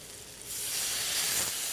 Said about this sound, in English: is hit them with a little red wine